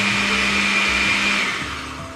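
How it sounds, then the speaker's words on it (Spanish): A kitchen blender grinds a sauce with vinegar and salt, a loud steady motor whir with a constant pitch that eases off slightly toward the end, heard alone. "Ahora sí pasamos a moler."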